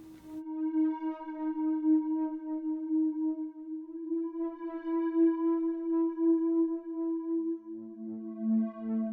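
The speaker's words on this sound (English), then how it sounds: "So why don't we add a reverb to it?" A sustained synthesizer tone in a melodic house track holds steady, shifts to a lower note near the end, and rings with a soft, spacious reverb tail.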